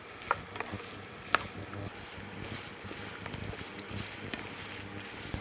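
Cut kolinchi (wild ginger) is stirred in a pan for a pickle, a soft frying sizzle under scraping and clinking from the spoon, with a couple of sharp knocks, all close and steady with no voices.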